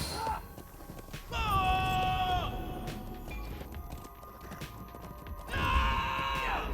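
A horse in The Lord of the Rings Online gives two drawn-out, wavering whinnies a few seconds apart, with soft hoof clatter and game ambience beneath, moderately close.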